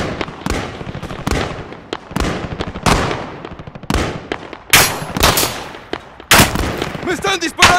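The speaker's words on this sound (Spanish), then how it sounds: "¡Me están disparando!" Sharp, loud gunshots from Call of Duty: Modern Warfare crack out in quick single shots and short bursts, some echoing, with brief gaps between volleys.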